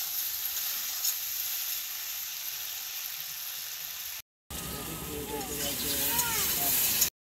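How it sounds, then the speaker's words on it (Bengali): Potatoes fry in a pan with a steady, bright hiss of sizzling oil close to the microphone, followed after a short break by more sizzling while someone talks over it. "আনাজ যে বালুটিকে কষাই নিতেছি"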